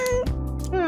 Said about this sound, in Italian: Accarezziamo il micio?